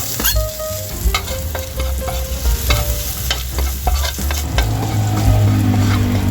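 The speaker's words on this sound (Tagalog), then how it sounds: "Ayan guys, nakapaglagay na tayo ng mantika at same kawali yung ating ginamit. Ilagay na natin yung ating bawang." Garlic dropped into hot oil in a kawali sizzles loudly and steadily up close, with stirring scrapes and clinks of a utensil against the pan and no talking.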